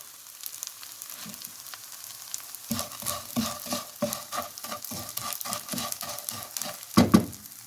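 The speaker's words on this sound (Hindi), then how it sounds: "तकरीबन ये फ्राई हो चुका है।" Edible gum (gond) frying and puffing in a pan for desi panjiri, with steady sizzling and repeated stirring scrapes in an irregular rhythm, close and fairly loud, ending in a couple of sharper knocks.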